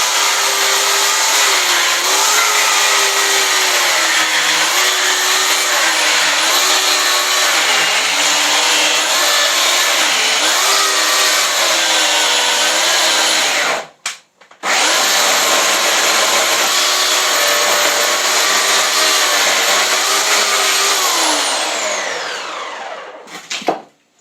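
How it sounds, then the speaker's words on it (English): Corded electric saw cutting into wood while carving a bear bust, a loud, close, steady whine that shifts in pitch as it bites, briefly stops near the end, then restarts before winding down. "this is one of the pains about having a corded saw, but it has a lot more power than the battery ones"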